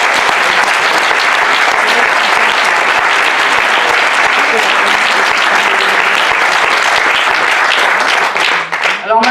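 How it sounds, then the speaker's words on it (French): Audience at a theatre festival closing ceremony applauding volunteers, loud, continuous massed clapping close up, tapering off right at the end. "merci vraiment à eux pour les applaudissements"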